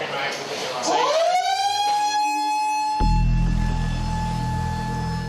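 A beach shark alarm siren at Bondi winds up from a rising wail into a loud sustained tone, then a deeper alarm joins from about the middle and continues steadily to the end, with voices faintly underneath.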